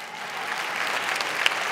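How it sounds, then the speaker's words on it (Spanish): Loud, steady applause from a large audience at a televised final gala, a dense wash of clapping filling the whole stretch with no voices over it. "Aplauso fuerte."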